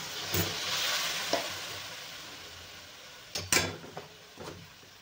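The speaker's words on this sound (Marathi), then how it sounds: "चांगला आपल्याला मसाला हे एकजीव करून घ्यायचंय" A spoon scrapes and clatters in a pan as masala is stirred with a little water over a soft steady sizzle, a few sharp knocks near the end.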